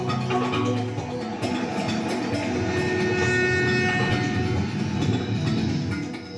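A train on the Congo railway rolls along with a continuous rumbling of wheels and rattling carriages, loud and steady throughout, with metallic clatter and no voices.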